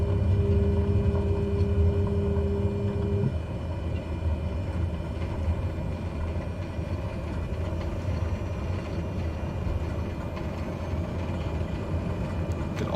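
A Cessna Caravan turboprop in Microsoft Flight Simulator 2020 roars with engine reverse thrust while it slows on a gravel strip. The rumble is steady and broadband, and a tonal whine drops away after a few seconds.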